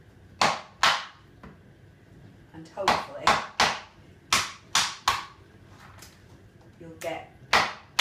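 Sharp, heavy thuds strike repeatedly at an uneven pace as a rolling pin hammers treacle toffee inside a bag, with a person talking briefly between blows.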